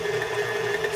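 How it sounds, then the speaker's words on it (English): White stand mixer whipping egg whites for macarons, a steady motor whine with a constant buzzing hum, moderately loud and unbroken. "I'm going to do it with this nice, beautiful white stand mixer."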